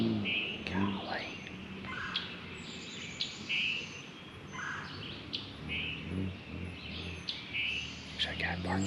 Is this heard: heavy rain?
no